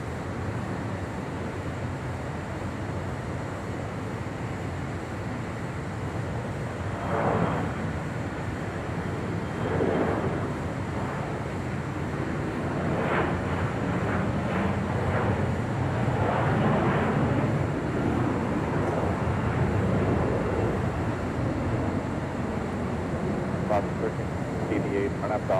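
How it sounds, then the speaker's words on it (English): Alaska Airlines Airbus A321neo coming in to land at LAX, a broad steady engine roar and rumble with wind noise throughout, rising slightly in the middle, with faint talk mixed in. "This is the Alaska A321neo coming in from Liberia."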